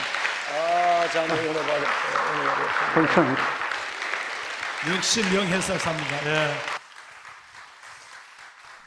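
A church congregation claps at a Wednesday evening service. The applause is steady and sustained, with someone speaking over it, and it stops abruptly near the end.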